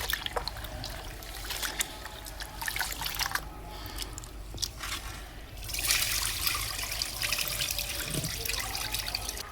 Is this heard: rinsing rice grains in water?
yes